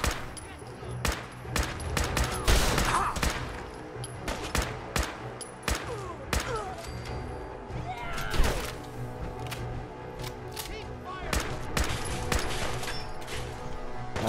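Dense rapid gunfire from Fallout 4 combat, bursts of automatic and single shots crackling loudly and continuously over layered game noise, with occasional impacts and crashes.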